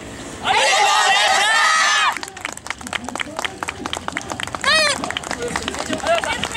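Audience applause and cheering at a Kuroshio Yosakoi dance festival in 2016, following a performance by the Sakado Hanafubuki team; a loud burst of clapping for about two seconds, then softer crowd noise and an announcer's voice over the hubbub.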